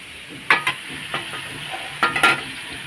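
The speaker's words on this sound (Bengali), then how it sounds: "এই যে মাংসগুলো দিয়ে এখন কষাচ্ছি" Chicken pieces frying in spice paste in a pan while being stirred, a low sizzle broken by a few sharp scraping strokes of the spoon, close by with no talk.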